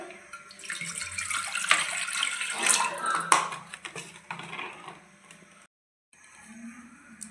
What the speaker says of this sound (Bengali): এবার প্রেসার কুকারের মধ্যে জল দিয়ে দেবো